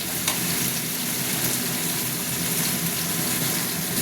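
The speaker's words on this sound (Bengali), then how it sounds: "আরও একটু ভাজা ভাজা করবো, কারণ যতক্ষণ না হলুদের গন্ধটা কেটে যাবে ততক্ষণ আমি জল দেবো না।" Turmeric spice paste fries and is stirred in a pan, giving a steady, close, dense sizzle that holds at an even level throughout with no voices.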